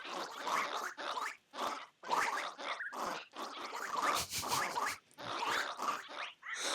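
Minecraft parrots near a shulker mimic its sound in a string of short, gurgling, grunting bursts, about a dozen choppy calls in quick succession, close and fairly loud.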